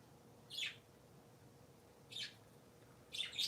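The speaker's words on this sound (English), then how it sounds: "Birdies are silly this morning." Three short bursts of bright, high chirping from pet parakeets at home, spaced about a second or more apart, close and moderately loud over quiet background hiss.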